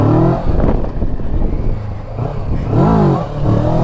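A motorcycle engine revs hard during a wheelie, loud rising and falling whines near the rider, with a brief voice and some clatter.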